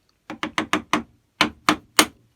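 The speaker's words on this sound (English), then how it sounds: "try not to hit the chisel too hard" A chisel is struck with a mallet to cut a frame joint: eight sharp, close, evenly loud knocks, five in quick succession, then a short pause and three more spaced blows.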